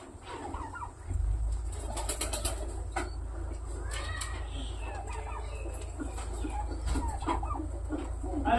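Pigeons coo and other fowl cluck in scattered calls over a low rumble, with people talking nearby.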